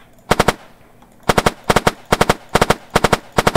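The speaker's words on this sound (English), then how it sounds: "We can now notice that when I click once, it shoots 3 bullets." Automatic gunfire from a Unity game weapon in burst mode, loud rapid three-shot bursts repeating at a steady pace after an opening burst and a short pause, with no talking.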